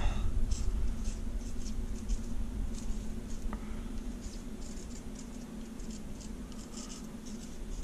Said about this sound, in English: we are going to write what it is.